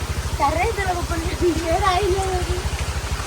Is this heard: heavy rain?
yes